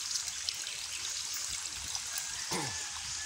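Water draining out of a pool or channel to catch fish, a continuous close trickling and gurgling stream with brief splashy bursts, no voices.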